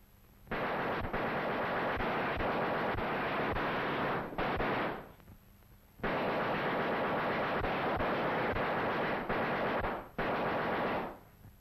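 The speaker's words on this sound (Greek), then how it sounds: "Ένα καλό κατασκευασμένο πολυβόλον πρέπει όταν δοκιμάζεται από απόσταση περίπου 200 μέτρων να συγκεντρώσει τα βλήματά του ακριβώς κάτω από τον κέντρο του στόχου." A machine gun is test-fired at a target about 200 metres away in long, continuous bursts, each lasting several seconds with brief pauses between them, loud and close, with no talking.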